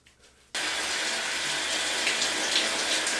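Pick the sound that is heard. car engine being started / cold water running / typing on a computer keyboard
cold water running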